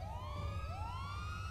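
A fire truck siren in GTA 5 with the LSPDFR police mod, a rising wail sweeping upward over a heavy low engine rumble, loud and continuous as it approaches.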